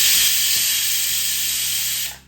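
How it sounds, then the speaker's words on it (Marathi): A pressure cooker cooking dal on the stove lets off a loud, steady hiss of escaping steam for about two seconds, then cuts off. "कुकरच्या 4 शिट्ट्या करून घेऊया"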